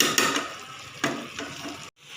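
Qeema masoor fries in a kadhai, with several bursts of sizzling and stirring scrapes that swell and fade before a brief silence near the end.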